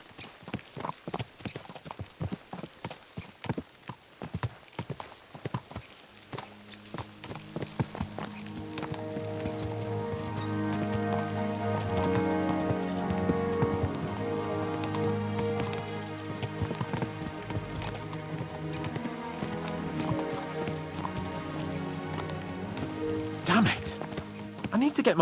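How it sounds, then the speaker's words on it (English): Horses' hooves clip-clop steadily at a trot in Kingdom Come Deliverance 2, a medieval open-world game, the rhythmic beats close and clear under a swelling orchestral score, with a brief whinny near the end. "Let's really spur these horses on, eh?"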